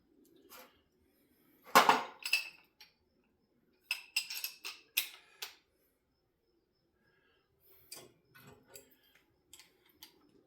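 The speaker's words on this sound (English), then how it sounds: "Just gonna screw my fitting on." A gas fitting wrapped in yellow gas tape being screwed on for a burner and forge upgrade, heard as sparse, faint metallic clicks and scrapes in short clusters separated by quiet gaps.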